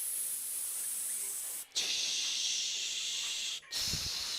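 Forceful hissing exhales made through the teeth during an exercise hold, long, steady and close, three sustained shushing breaths separated by brief pauses.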